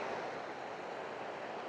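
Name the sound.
waterfall on the Isle of Skye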